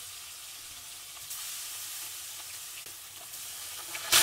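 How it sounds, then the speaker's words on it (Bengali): Fish frying in hot oil, pieces of whole fish being fried ahead of a rohu curry with green banana, giving a steady close sizzle with a brief louder crackle at the very end, no voices. "আমি সবগুলো মাছ ভেজে নিব।"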